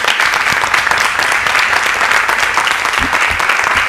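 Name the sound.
audience applause at public hearing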